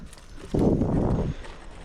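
A herd of cows with bells tied at their necks walking past on a forest road, heard as a short burst of close hoof clatter and shuffling lasting under a second.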